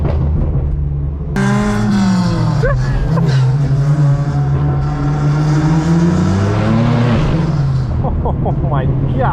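A straight-piped BMW M4 F82 roars and revs hard on the way to a supercar meet, its loud exhaust rising and falling through the gears, heard from inside the cabin with voices talking over it.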